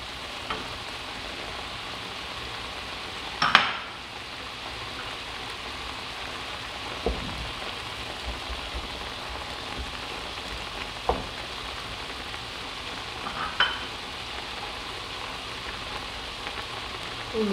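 Chicken liver sizzling in a pan for a tagine, a steady close hiss of frying broken by a few sharp clicks and scrapes as the pieces are stirred.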